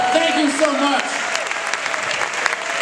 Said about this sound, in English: Let's hear it for a big round of applause